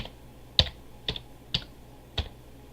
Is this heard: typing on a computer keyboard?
yes